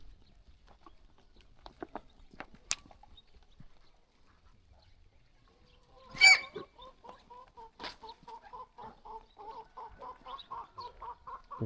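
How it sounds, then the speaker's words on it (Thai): Many large ducks in a village in Nakai District, Laos, give a burst of calls followed by steady, rhythmic quacking and clucking that runs close by to the end, after a quieter stretch of scattered knocks. "โอ้ตัวเป็ดหลายแท้ ว้ามีแต่ตัวใหญ่"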